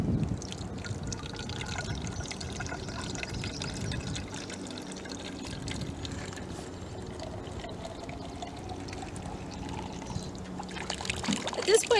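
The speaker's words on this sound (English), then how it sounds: "Then you're going to fill your bottle back up." Lake water pours and gurgles into a bottle outdoors, a steady liquid trickle with faint splashing throughout.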